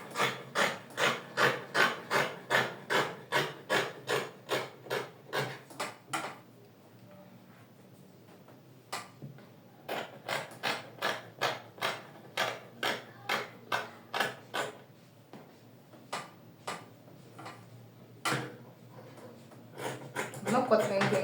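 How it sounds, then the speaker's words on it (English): Excess fabric at the side of a dress body is trimmed with scissors: a long run of loud, close, rhythmic snips, pausing briefly midway before resuming in another rapid series. "I'm not cutting anything else, I'm just trying to trim out the excess fabric at the side."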